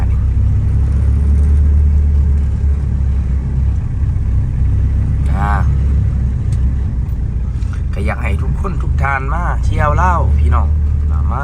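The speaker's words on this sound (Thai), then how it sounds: "รถติดแหละพี่น้องเอ้ย" Cars sit in a slow traffic jam, a steady low engine rumble and road hum running throughout, while someone talks over it in the second half.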